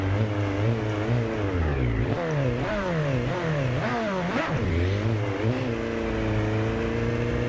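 Kawasaki Ninja ZX10R 2015 superbike with a continuous engine roar that rises and falls through quick rev swings, steady and close with no voices.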